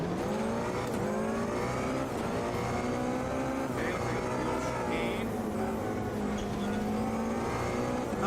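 A rally car in the Automobilista 2 RX racing game drives steadily with a continuous loud engine drone, rising and falling in pitch as it revs, with brief tire noise; a voice talks intermittently over it.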